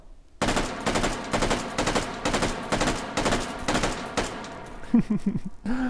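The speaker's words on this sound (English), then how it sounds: "And then shoot this gun off a little bit more." FAMAS bullpup rifle firing in a VR shooting game, about eight rapid bursts of loud gunfire in a steady rhythm, followed by mechanical clacks at the end.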